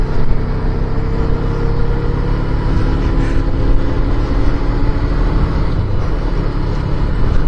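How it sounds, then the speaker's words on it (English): Suzuki Inazuma GW250 motorcycle engine running at high revs, a loud steady drone with wind rush, heard from the rider's position while on the move. "the engine does rev quite high for a little"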